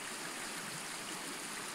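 Small forest brook in Finland flowing steadily, a continuous close rushing and trickling of water with no pauses and no voices.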